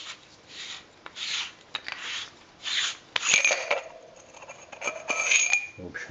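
A metal flashlight body with a knurled, threaded battery tube is unscrewed, giving close rasping thread grinds in short bursts with small metallic clicks.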